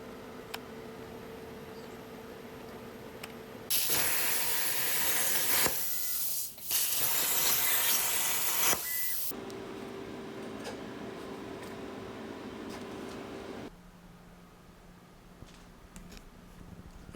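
A steel plate being cut out in a garage for a custom Volkswagen Beetle steering column, with loud hissing cutting bursts that start and stop several times between quieter stretches of shop hum.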